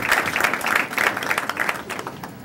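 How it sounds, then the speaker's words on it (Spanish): Brief, lively applause from an audience at a talk on television censorship welcomes a guest speaker, a thick wash of many clapping hands that starts strong and gradually thins. "quiero que le demos un fuerte aplauso a Natalia por estar aquí"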